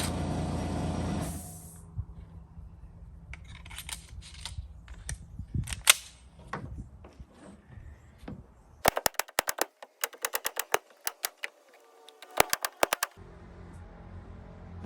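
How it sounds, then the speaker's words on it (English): Nail gun driving nails into house framing: scattered sharp clacks at first, then rapid bursts of loud, closely spaced shots, with some quieter handling noise between them. "actually it's a nail gun"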